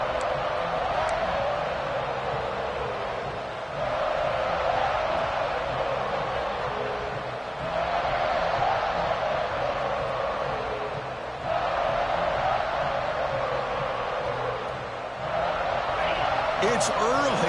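A roaring stadium crowd at a college football game in CFB26, a dense, loud, continuous wash of noise that swells and dips in waves.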